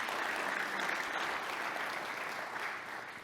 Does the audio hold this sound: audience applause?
yes